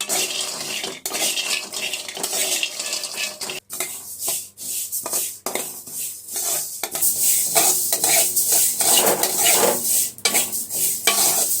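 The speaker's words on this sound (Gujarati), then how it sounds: "આપણું તલને એને શેકવાનું છે તે કામ કરી લઈએ" Sesame seeds roast in a pan while a utensil stirs and scrapes them, making repeated close metallic scrapes and rustles over a faint sizzle.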